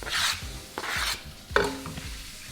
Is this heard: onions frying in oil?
yes